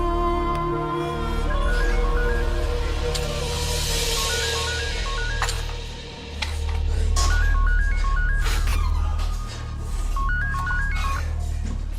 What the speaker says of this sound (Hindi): फोन करके पता कर।